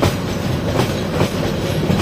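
Kishorganj Express passenger train rolling along the rails near Methikanda station outer, a dense continuous rumble with faint clickety-clack of wheels, loud and close from onboard, no talk.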